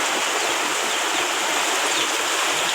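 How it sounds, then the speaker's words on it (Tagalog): Floodwater from a typhoon rushing down a swollen provincial river, a steady broadband roar and hiss of fast-moving water, close and continuous with no talk. "tubig baha, ayan na, malapit na dito"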